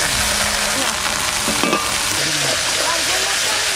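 Onion, garlic and ginger fry with dried chilli, bay leaf and cumin for a village-style fish curry, a constant close sizzle with stirring scrapes and faint voices beneath.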